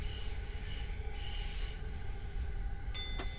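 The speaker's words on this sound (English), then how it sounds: "I like the flange squeal sounds as well, that's so cool." Wheels of a long E233-3000 EMU commuter train let out high, tonal flange squeal, whining steadily for several seconds over a low rolling rumble, fairly faint, with no speech.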